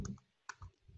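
A few sharp, quiet clicks of computer keyboard keys, including the Enter key, sound in a quiet room, spaced irregularly within a second.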